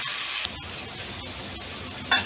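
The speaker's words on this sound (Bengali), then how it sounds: "আমি সবজিগুলো একটুখানি নেড়ে ভেজে নিয়ে আসি।" Vegetables stirred and fried in a pan for a rainy-day broken-rice khichuri, giving a steady broadband sizzle with faint scraping and a brief louder clatter near the end, no talking.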